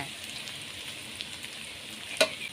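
Eggs fry in hot oil with scallion, garlic and chili, making a steady hiss of moderate loudness with one sharp utensil clink near the end. Nobody talks.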